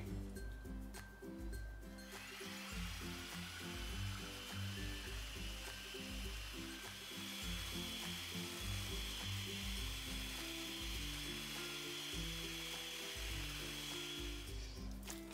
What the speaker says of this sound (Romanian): Mestecăm puțin și batem cu mixerul